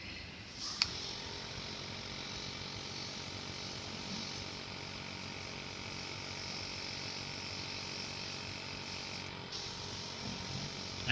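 A Hobby Mio HM03 mini compressor running at its highest pressure, with a constant buzzing whir and airy hiss that holds steady, a small click near the start, and a change in tone close to the end.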